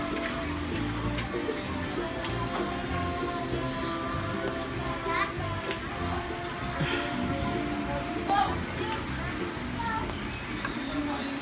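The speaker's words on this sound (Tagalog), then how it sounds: "So, umuulan guys." Steady rain falls outdoors in a neighborhood where children gather, a continuous dense patter with a few brighter drips, while kids chatter and people talk throughout.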